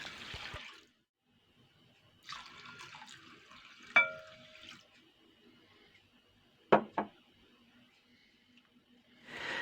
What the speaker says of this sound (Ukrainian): і заливаю двома склянками води.